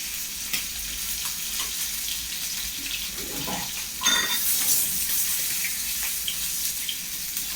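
Chicken pieces frying in hot oil, a steady crackling sizzle close by with occasional louder pops and spatters.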